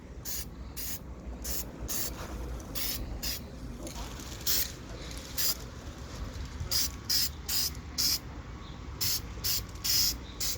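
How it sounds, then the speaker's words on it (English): Aerosol spray paint hisses in repeated short bursts onto a gas pipe handrail, applied as several light coats. Each burst is sharp and close, separated by brief pauses, over a steady low background rumble. "Start spraying off your piece"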